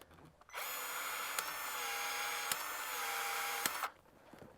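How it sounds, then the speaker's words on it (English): A power tool runs steadily for about three seconds as it stretches a rubber hose to take a fitting during ballast installation on a Mastercraft Maristar boat, with a few sharp clicks along the way, close and fairly loud. "use our hose stretcher to get this fitting to fit correctly in there, and then we'll go ahead and crimp it down"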